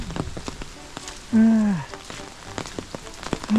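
Steady rain pours on a Shikoku pilgrimage trail near Misaka Pass, a dense hiss of drops pattering close around, with a voice briefly speaking over it.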